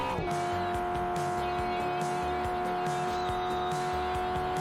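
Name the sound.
drifting race car in video game Drift Stage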